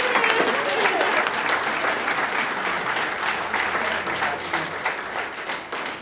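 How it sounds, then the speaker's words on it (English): Graduates at a graduation ceremony receive a loud, sustained round of applause from the audience, dense clapping that fills the room steadily for several seconds with a crowd murmur beneath it. "Can we stand up and give these graduates another round of applause?"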